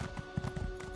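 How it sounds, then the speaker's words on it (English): Horse hooves clip-clopping in an Elder Scrolls video game, a quick brief run of soft rhythmic hoofbeats over a steady tonal hum. "Oh, my horse."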